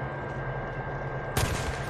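A single sharp gunshot from the video game Days Gone cracks out loud near the end, over a steady low game ambience.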